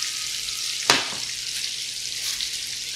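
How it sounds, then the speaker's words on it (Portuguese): Pork ribs, already fried golden, sizzle in a frying pan with a steady bright crackle. Partway through there is one sharp clatter or spatter, and the sizzling goes on without any talk. "A costelinha já fritou, já tá douradinha."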